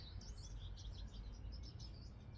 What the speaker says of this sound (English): that chittering could at least be a little bit goldfinchy